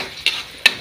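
A fish steak and onions stirred in a hot pan, with two quick, crisp utensil scrapes about half a second apart over a low sizzle, close and fairly loud.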